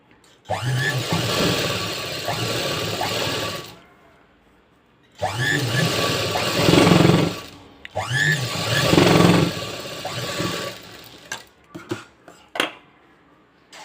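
An electric sewing machine stitches blouse fabric in three sustained whirring runs with short pauses between them, followed by a few light handling clicks.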